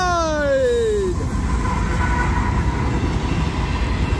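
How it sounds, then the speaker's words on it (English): A loud Union Pacific freight train rumbles past close by, its horn sounding briefly at the start before fading into the continuous roar and clatter of passing rail cars. "the other train just cleared right after it"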